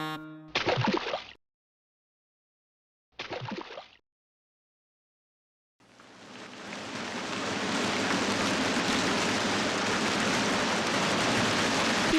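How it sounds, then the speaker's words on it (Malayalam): Two short bursts of noise, then silence, before a dense, steady hiss of heavy rain sets in and continues evenly to the end. "എന്താ ഈ മഴ ചോരുന്ന ലക്ഷണമില്ലല്ലോ"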